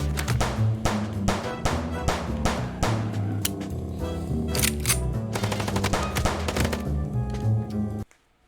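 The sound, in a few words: gunfire in the Chicken Police video game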